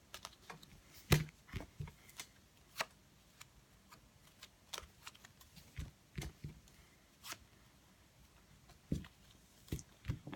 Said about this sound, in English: So now I'm just going to give the piles a little bit of a shuffle.